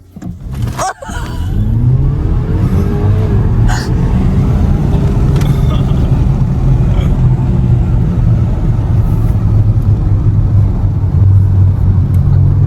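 Tuned 300 hp Audi A5 Avant launching hard from a standstill in the Netherlands, where a brief clunk gives way to a loud rising engine roar that holds strong and continuous as it pulls away. There is no talking.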